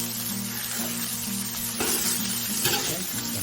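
Cinnamon rolls sizzle on a hot Blackstone griddle, a steady close frying crackle that swells briefly with a couple of louder bursts of hiss, with no talk.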